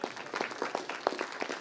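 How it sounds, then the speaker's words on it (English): Light scattered clapping from a conference audience after a research paper talk, a few distinct claps over roughly two seconds, fairly quiet. "He can hear us, so you can clap."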